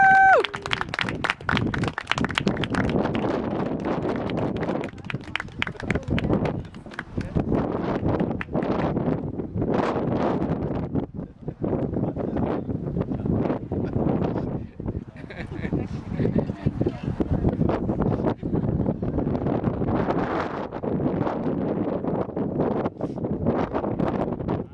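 Wind buffets the microphone throughout an outdoor wedding ceremony, gusty rumbling under continuous talking from people nearby.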